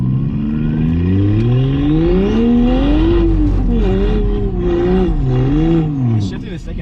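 A big-turbo BMW 335 accelerates hard, the engine climbing loud and close through several gear shifts, with each rise followed by a drop in pitch, while people talk over it.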